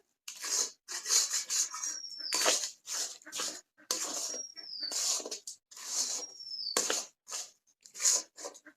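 A sticky mixture of semolina and raw potato is stirred in a pan, giving wet squelching, scraping strokes in a steady rhythm with short pauses between, close and fairly loud, without talk.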